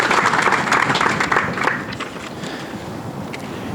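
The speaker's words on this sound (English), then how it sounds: "So let's give them a round of applause for making this so great for us today." Applause from the crowd at an outdoor ribbon-cutting ceremony marking a completed bridge pier protection project, a dense burst of clapping that thins and fades after about two seconds into scattered claps.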